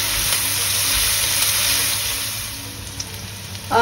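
Chopped garlic and onions cook in a pot for a Thai-style spicy pumpkin soup, a continuous soft sizzle with a brief clatter near the end, no talking.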